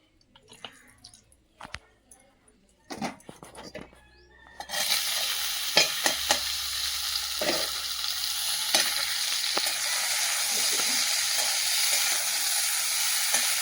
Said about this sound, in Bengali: উচ্ছে আর আলুটা ভেজে নেব